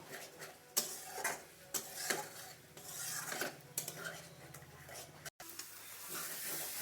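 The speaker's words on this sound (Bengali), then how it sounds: "দিয়ে এটা আবারও ভালো করে কষিয়ে নেব।" A spice masala of cumin, coriander, turmeric and chili powder for a spicy Bengali chicken tangri curry sizzles softly in a pan, with repeated close scrapes and taps of a spatula as it is stir-fried.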